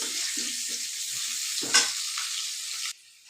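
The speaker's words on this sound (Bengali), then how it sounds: "আলু ফ্ৰাই হৈ গ'ল" Potatoes frying in a pan for a thin desi chicken curry, a steady close sizzle with a few light stirring scrapes, then the sizzle cutting off abruptly near the end.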